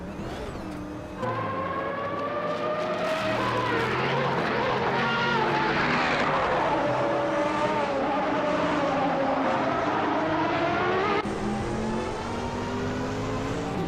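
Race cars in a racing video game whine past with rising and falling engine pitch, several cars overlapping, loud and continuous, with a sharp change in engine note near the end.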